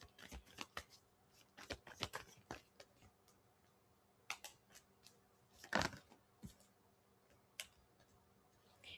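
Tarot cards being shuffled by hand, heard as quiet, irregular bursts of papery riffles and snaps with short pauses between them. No one speaks.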